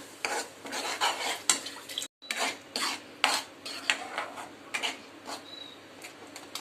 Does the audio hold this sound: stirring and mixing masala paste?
yes